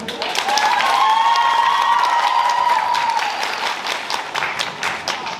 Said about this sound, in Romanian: Îl invităm în scenă într-o mare de aplauze pe Albert